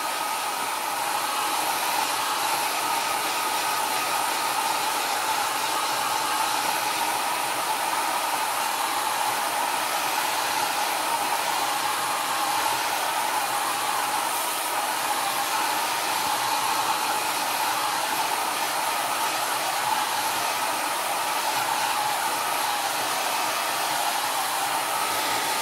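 A hair dryer blows steadily and loudly to dry a line-and-wash watercolor painting, a continuous broadband whoosh with no talk over it.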